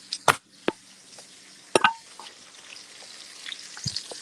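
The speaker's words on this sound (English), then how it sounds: "Oh, I can hear them sizzling." Food fries in a pan at home, a low steady sizzle under a few sharp clinks and knocks of a utensil against the pan.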